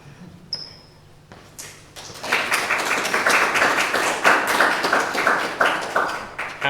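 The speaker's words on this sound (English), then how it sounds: "Applause." An audience at an ecological gardening talk breaks into steady applause as the speaker is called up, a sustained wash of many hands clapping that builds and holds loud to the end.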